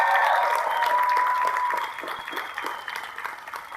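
A commencement crowd at a college of environmental design claps steadily, loud at first and thinning out toward the end.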